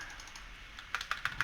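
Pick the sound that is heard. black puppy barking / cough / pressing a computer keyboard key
pressing a computer keyboard key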